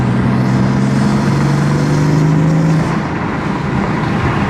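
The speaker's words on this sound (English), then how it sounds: "Might be a little wind noise, but might be able to hear the intakes a little better." A BMW F80 M3 fitted with a VRSF intake drives with the window open, a loud steady engine drone and intake hum mixed with rushing wind noise, no voices.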